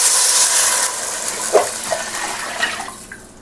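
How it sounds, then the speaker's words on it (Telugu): Water poured into a cooking pot of fried onions and ginger-garlic paste for chicken biryani, a rushing splash that starts strong and fades, followed by a few small drips and clinks, close by with no voices. "వాటర్ యాడ్ చేస్తున్నా."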